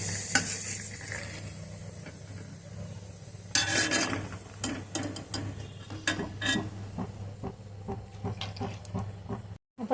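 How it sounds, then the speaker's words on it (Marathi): Poha papad frying in hot oil with a steady sizzle throughout, plus a sharper burst of crackling bubbling partway in and intermittent scrapes and clinks of a utensil against the pan, no talking. "पापड तळून घेणार आहोत बघा बघा कसा छान पापड आपला फुललेला आहे"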